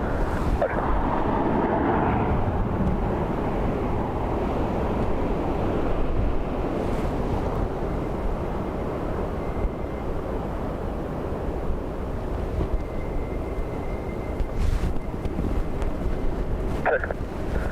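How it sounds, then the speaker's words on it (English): Strong storm wind roars across Dublin Airport, a loud continuous rushing buffet that batters the microphone for the whole stretch with no pauses. "surface wind 230 degrees, 26 knots, maximum 4 9 knots"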